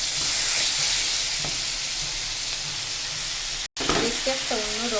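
Stuffed pointed gourd (potol) fritters seasoned with chili powder, cumin, coriander and turmeric sizzle steadily in a pan up close, with a momentary dropout and a voice briefly heard near the end.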